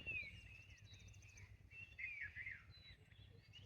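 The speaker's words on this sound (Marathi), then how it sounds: "पक्ष्यांचा किलबिलाट" Birds chirp and twitter through a quiet Konkan village morning, their faint, high, repeated calls overlapping over a low background hum with no talking.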